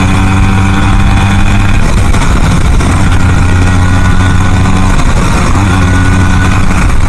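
Car engine running with the underbody panel not fitted, its loud, steady exhaust note droning close by, swelling slightly in a few repeated pulses and broadening over several seconds, with no talking.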